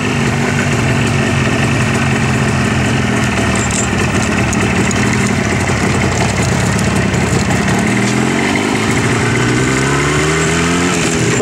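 A Jawa motorcycle engine runs in second gear while riding, a loud, close and constant drone whose pitch climbs toward the end as it speeds up.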